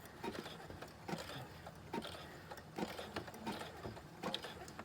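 Sewing machine stitching slowly through thick layered fabric ruffles, a quiet mechanical clatter with regular knocks roughly every second, close by and steady.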